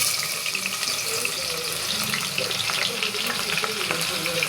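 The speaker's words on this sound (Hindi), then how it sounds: "इधर तेल हो चुका है अच्छे से गर्म और अब मैं इसके अंदर प्याज डाल देती हूँ।" Onions sizzle in well-heated oil for nihari, producing a loud, dense, continuous frying hiss close up, broken by faint stirring. No one speaks.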